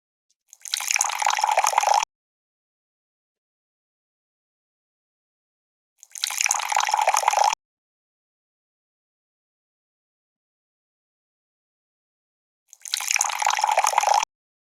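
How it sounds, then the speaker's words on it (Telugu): Water is poured into a cooking pot of rice for egg biryani in three separate pours of about one and a half seconds each, each followed by silence. "2 గ్లాసులు బియ్యం వేసుకున్నాం కాబట్టి 4 గ్లాసులు వాటర్ అనేది పోసుకోవాలి."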